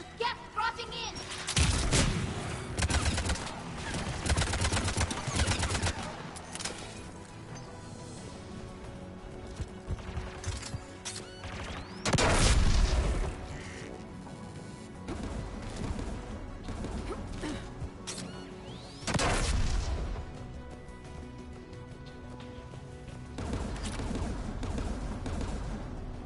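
Anti-aircraft gun fire in Mass Effect 3, heavy bursts and crashing booms recurring every several seconds over a dense, rumbling battle bed, with voices talking in between.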